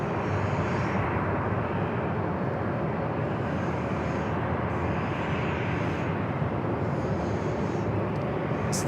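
An Alaska Airlines Boeing 737-900ER jet at San Diego airport gives a constant, dense engine roar that stays even and fairly loud throughout, with no voices.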